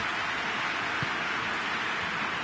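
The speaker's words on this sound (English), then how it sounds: "Rain starting to fall here." Steady broadband hiss of rain falling in a PES football video game match, Brazil versus Italy, a constant wash with no commentary over it.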